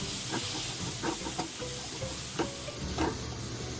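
Bean sprouts and tofu sauté in a pan seasoned with fish sauce, giving a steady close sizzle and hiss broken by intermittent scrapes and clacks of stirring.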